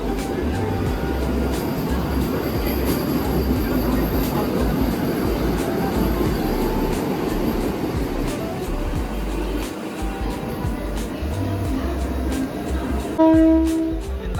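A local passenger train runs near Asangaon, giving a loud continuous rumble and rattle of wheels on track throughout, with faint clanks and a brief high tone near the end.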